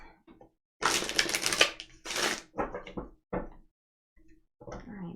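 Tarot cards being shuffled up close, heard as several rough, papery bursts of riffling of varying length separated by short pauses, with no talk over them.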